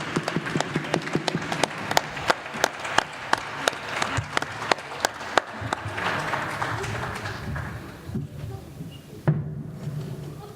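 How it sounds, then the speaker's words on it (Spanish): An audience applauds a volunteer singer called up on stage at a Spanish folk music event, with loose individual claps that thin out toward the end, followed by a lone louder clap. "Venga, un aplauso para Federico."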